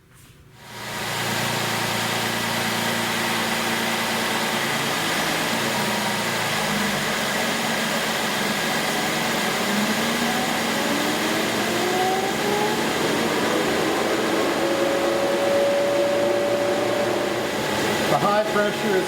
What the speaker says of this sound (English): As I start the car and turn it on high, maximum cool, the compressor should kick on